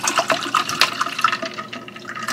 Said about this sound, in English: The first thing that I'm going to do is add water to my blender.